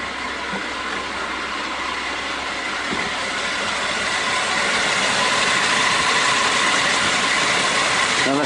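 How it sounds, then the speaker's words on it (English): Engine idling at an even tick over after the hand throttle is eased back, almost drowned out by a loud, steady whooshing fan that holds constant throughout. "there seems to be a lot of noise, but it's nearly all coming from the fan"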